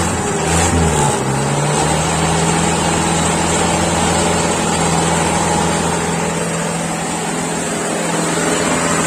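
A Mahindra Bolero engine, started cold after five years, runs loud and close with a brief rev at the start, then settles into a steady, rough idle hum.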